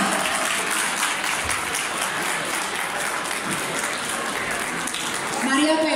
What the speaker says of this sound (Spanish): que suba este escenario y que reciba el aplauso de la gente de Alhama